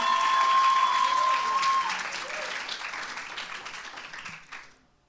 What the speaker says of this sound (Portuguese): Será que você pode aplaudir o nome de Jesus?